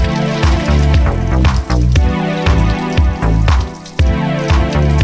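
Dirty, sewage-smelling municipal supply water runs from a tap in a city chawl, a loud, close, continuous gush and splatter with fluctuating bubbling.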